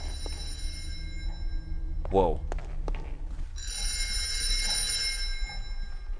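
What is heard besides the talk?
telephone ringing in video game Thief 2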